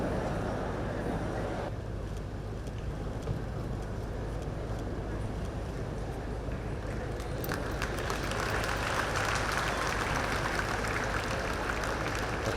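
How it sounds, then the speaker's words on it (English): Audience clapping to welcome the President at a formal gathering, a steady dense wash of applause mixed with crowd noise that swells louder partway through and continues to the end. "Can we give a better clap to His Excellency the President?"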